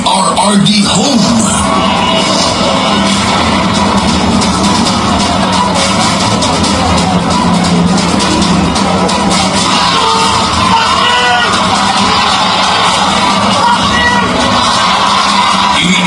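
A large political rally crowd calling for Rodrigo Duterte shouts and cheers continuously, a loud, dense roar of many voices with yells and whoops rising out of the mass throughout.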